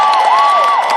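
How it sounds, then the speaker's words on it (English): At a political rally, a large crowd cheers and applauds, loud and close, with whoops rising over the sustained roar. "Can everybody please give Mike a big round of applause for the great introduction"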